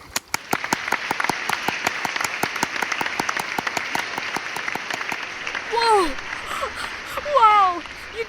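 Rhythmic clapping by a small audience, including children, in crisp regular beats for several seconds, then excited voices cheering over it near the end.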